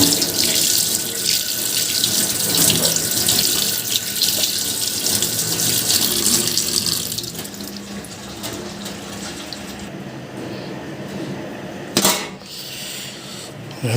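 Kitchen tap running for washing up while preparing Alexandrian liver sandwiches, a steady close splashing stream that softens partway through, with a brief clatter near the end.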